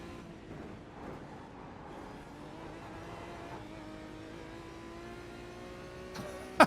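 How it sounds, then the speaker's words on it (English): A race car engine in the iRacing sim climbs through the revs at the Nürburgring, its rising tone building steadily at moderate volume before a sharp bump at the end. "Rev limiter sounds funky in the car, but hey."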